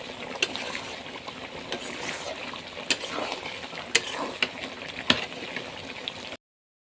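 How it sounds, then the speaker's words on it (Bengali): Chicken for biryani cooks down in masala with a soft bubbling sizzle, punctuated by sharp spatula clacks and scrapes at irregular intervals, close by and without talk, before cutting off abruptly. "মাংসটা ভালো মতো প্রায় কষানো শেষ।"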